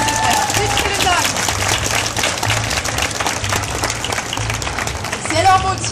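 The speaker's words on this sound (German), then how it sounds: "Und ein Applaus bitte" Audience applause at a German convention panel with voice actresses at the Leipzig Book Fair, a steady dense wash of clapping lasting the whole stretch, with a voice speaking over it toward the end.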